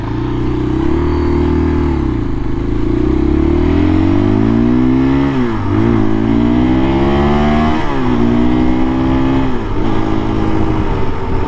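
A KTM 500 EXC-F dirt bike engine revs and pulls steadily as it is ridden, loud and close throughout, with repeated rising and falling throttle sweeps and no talking over it.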